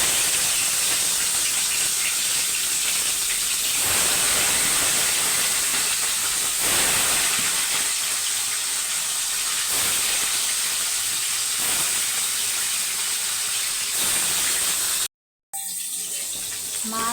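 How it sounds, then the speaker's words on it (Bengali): Salted katla fish pieces frying in hot oil in a kadai, a loud, dense, continuous sizzle and hiss close up that runs unbroken for most of the stretch, then cuts out briefly near the end. "তেল গরম হয়ে গেছে, মাছ ভেজে নেব।"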